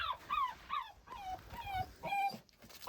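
A small puppy trapped inside a narrow gap whimpers and yips in a run of high, wavering cries, each one short and falling in pitch, with brief pauses between them and a faint rumble underneath.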